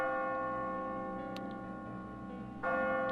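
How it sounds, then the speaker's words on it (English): A bell rings near the top of a tower in a video game, a sustained metallic tone over a steady humming drone, with a brief sharp strike and a louder swell near the end. "As you near the top, you will hear a bell ringing"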